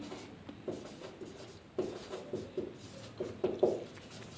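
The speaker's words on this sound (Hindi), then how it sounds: "तो हम लोग यहाँ पर लिखेंगे प्रोबेबिलिटी" Pen scratching across paper while someone writes out a probability problem, a soft close scraping in short bursts with brief pauses between strokes, no voices.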